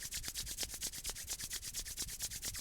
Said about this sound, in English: So let's begin by warming up our hands, activating the magnetism in our hands. So just rubbing them